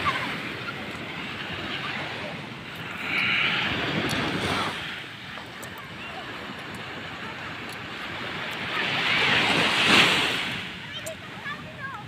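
Sea waves wash onto a shell-strewn shore at Bukana, with two broad surges rising and falling over steady wind noise on the microphone and faint rumble beneath.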